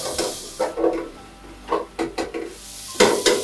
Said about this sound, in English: desi ghee with a sprinkle of green chilies. We saute them while you can smell the flavors.